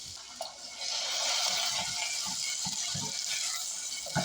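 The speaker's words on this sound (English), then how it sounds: "And I'm going to add some water also." Water is poured into a pan of gravy in a home kitchen, making a continuous splashing, gurgling stream that starts after a brief pause and holds steady for a few seconds.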